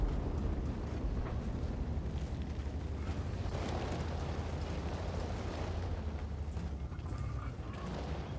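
Tank shells striking armour in World of Tanks, a steady rumbling roar of low booms and muffled impacts that fills the whole stretch, with no distinct separate blasts standing out.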